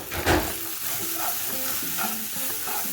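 Crumbled idli being stirred into upma in a hot pan, with a louder scrape of the spoon near the start, then steady sizzling and repeated soft stirring strokes throughout, close and without talk.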